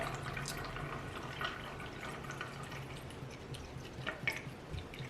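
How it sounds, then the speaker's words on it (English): Water dripping and trickling through a filter pitcher, a faint continuous watery patter with occasional brighter drops, close and quiet, no voices. "it filters the water pretty quickly for a pitcher"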